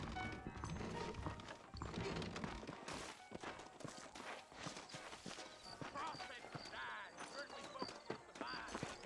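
Horse hooves clip-clop at a steady walking pace in the western game Red Dead Redemption, close and rhythmic, mixed with voices and background game sound.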